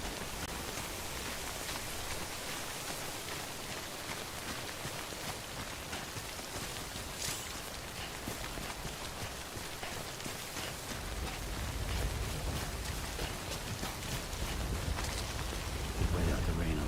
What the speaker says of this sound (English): Wait out the rain over there.